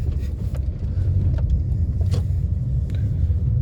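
A car turns slowly to the right on an Indian road, its steady low engine rumble and road noise heard from inside the cabin, with a few faint clicks and ticks over the continuous hum.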